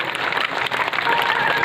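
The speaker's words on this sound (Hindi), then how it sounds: "एक बार जोरदार ताली बजाइए।" Loud, dense applause from an audience at a religious discourse gathering, steady claps filling the short stretch without a pause.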